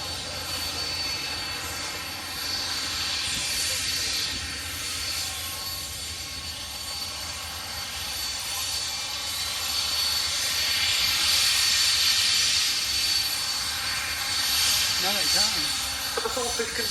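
A Fairey Swordfish biplane flying at the Cosford Air Show, its engine a steady, distant droning roar that swells and fades slightly, with a voice commentating over it.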